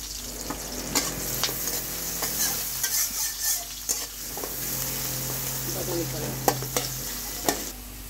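Steady frying sizzle in a pan while a utensil stirs and scrapes in repeated clicks and knocks, close and fairly loud, with no talking.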